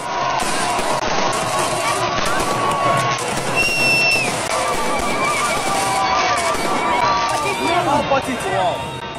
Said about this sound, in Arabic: خرجت الجماهير الجزائرية للاحتفال في الميادين الرئيسية في الجزائر